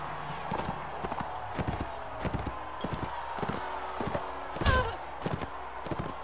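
Horse hooves clip-clop in a quick, regular gallop during a Mount & Blade Warband tournament, steady and close, with one heavier thud partway through.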